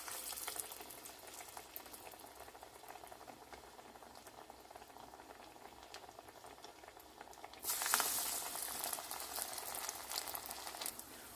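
Masala paruppu vada, spiced lentil fritters, sizzling in hot oil in a pan, a constant soft bubbling hiss that swells louder partway through as another batch goes in.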